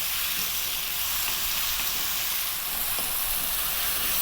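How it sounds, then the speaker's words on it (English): Steady, loud sizzling of pumpkin frying in a pan with onions, garlic and cumin seeds, a continuous close hiss with no pauses. "frying our pumpkin around with those lovely onions, garlic and cumin seeds"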